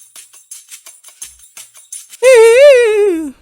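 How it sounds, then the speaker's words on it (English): A dry percussion loop for a pop beat built in FL Studio, with no effects, plays as a steady run of short, crisp hits. Partway through, a loud sustained tonal sound that bends in pitch cuts in and takes over. "I added a perc loop."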